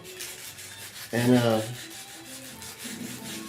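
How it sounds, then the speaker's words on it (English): An edge used as a sanding block rubs primer along a curved roof edge of a rusty 1969 C10, giving close, repeated rasping strokes, with one short word spoken briefly partway through. "you basically got a sanding block along this edge, as long as you're careful"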